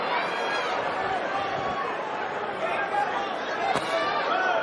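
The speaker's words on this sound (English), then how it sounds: "Crowd starting to finally settle down a little bit." Dense crowd chatter fills a boxing arena before the opening bell of a Ryan Garcia vs Mario Barrios fight, a steady loud murmur of many voices with a brief sharp accent near the end.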